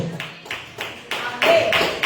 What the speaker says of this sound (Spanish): Los hermanos están aplaudiendo